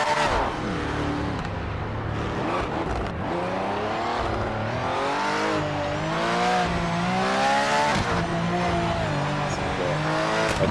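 A race car with its rear tyres worn out in Project Motor Racing roars continuously, the engine rising and falling through gear changes with tyre squeal and skidding as it slides, loud and close with no talk.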